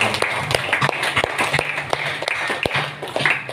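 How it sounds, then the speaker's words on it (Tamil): Festival crowd at a feast of Our Lady of Fatima clapping in scattered, uneven bursts, with sharp individual claps over a steady murmur of the gathering, fairly close and moderately loud. "கைத்தட்டி அவர்களை பாராட்டுகள்"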